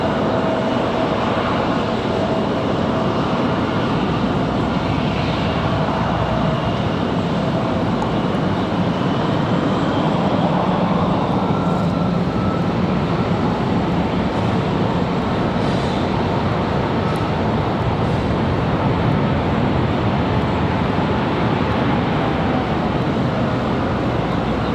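A Frontier airliner at Raleigh Durham airport, a broad continuous jet engine roar with faint whining tones that stays loud and steady throughout.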